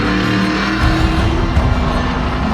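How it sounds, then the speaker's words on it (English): An IMCA modified race car with a small block Chevy engine of roughly 700 horsepower roars loudly and continuously, a dense close engine drone with slight surges and no talk. "We race a IMCA modified, basically a stock clip car, and small block Chevys, but they make upwards of 700 horsepower."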